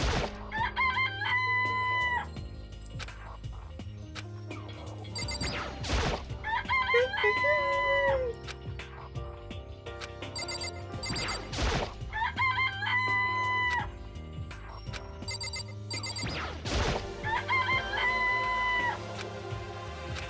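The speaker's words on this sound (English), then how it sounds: "Are there chickens in them? Yes, there are! Chickens! Chickens!" Chickens in a video game cluck and crow, with loud rooster calls repeating at a steady interval over a continuous game background loop, with no talking.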